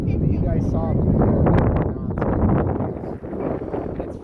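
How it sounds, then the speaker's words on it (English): Strong gusting wind at 15 gusting 25 buffets the microphone at a model airfield, with a low, rumbling roar that swells and eases beneath continuous close talking. "It's very windy right now."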